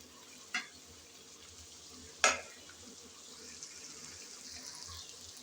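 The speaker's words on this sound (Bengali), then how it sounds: "এখন দিয়ে দেব ভেজে রাখা চিংড়ি।" Fried prawns drop into spices frying in a pan: two sharp clattering hits, then a faint, low sizzle and soft stirring in a quiet kitchen.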